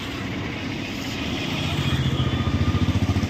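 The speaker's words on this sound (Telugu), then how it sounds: "ఇది వచ్చేసి అన్నది Sonalika tractor RX42 D1 Sikandar" A Sonalika RX42 D1 Sikander tractor engine runs close by with a 36-blade semi champion rotavator, its steady drone settling into a rapid, even pulsing thump as the engine works.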